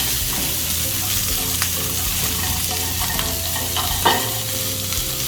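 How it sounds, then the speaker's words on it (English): Blanched Brussels sprouts cooking in a pan with bacon and onions sizzle loudly and steadily up close, with occasional stirring clicks and one sharper clack near the end, no talking. "we're just going to cook the Brussels sprouts a little bit more"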